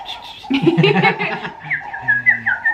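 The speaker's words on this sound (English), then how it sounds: "just listen to the birds" Chirpy bird calls and whistled notes in Plettenberg Bay, South Africa, fairly close, with a busier burst of twittering early on before lighter, scattered chirps follow.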